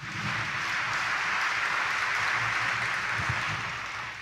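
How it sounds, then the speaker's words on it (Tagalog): A congregation applauds at Easter Sunday Mass in Quiapo Church, a dense, even wash of clapping that holds steady and then fades slightly. "Ibigay natin ngayon ang pinakamalakas na palakpak sa ating Panginoong Hesus na muling nabuhay."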